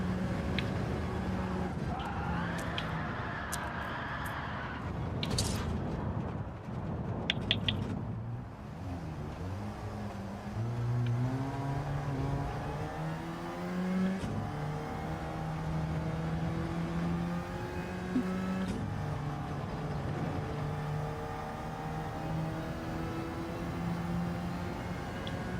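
Citroen race car engine in Gran Turismo 7, revving up and down through gears in a continuous stream, moderately loud with a voice talking faintly over parts of it.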